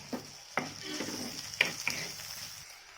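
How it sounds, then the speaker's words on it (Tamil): Curry leaves crackle and sizzle in hot oil, with a few sharp pops and spattering bursts over a steady frying hiss. "ஒரு கொத்து கருவேப்பிலை இதில் சேர்த்துடலாம்"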